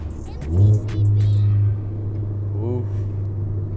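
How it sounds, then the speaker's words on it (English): A car engine drops and rises in pitch as it downshifts and revs, a low steady drone between, with a voice talking briefly over it. "Let's see that Kris downshifts."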